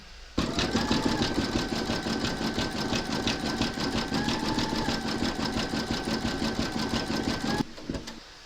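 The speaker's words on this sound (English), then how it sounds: "Load your thread colour for the decorative stitching along the bottom seam into your machine and stitch round number 10." A sewing machine stitches a decorative seam along the bottom edge of a patchwork notebook cover, running in a fast, steady mechanical rhythm for about seven seconds up close, then stopping abruptly.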